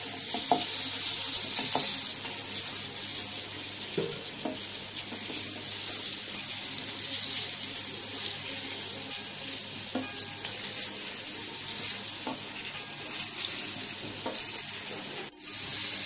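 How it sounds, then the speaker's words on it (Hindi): Stuffed apple gourds (tinde) frying in a pan, a continuous bright sizzle with occasional stirring scrapes and soft clinks, steady throughout with a brief dip near the end and no speech. "उधर वो टिंडे भून रहे हैं, लाल लाल हो रहे हैं"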